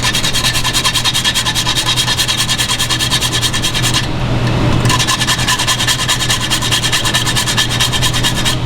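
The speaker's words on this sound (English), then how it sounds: "Always use fresh nutmeg and grind it myself." Steady rasping of fresh nutmeg being grated on a microplane, a continuous scratchy rubbing close up with one brief pause midway, no talking.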